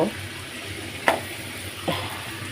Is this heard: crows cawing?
no